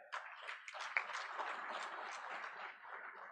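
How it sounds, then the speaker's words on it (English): Audience at a trade review conference applauding guests, a steady wash of many hands clapping at moderate distance, sustained for a few seconds without a break. "I will just request you to give a loud hand clap to our guests here"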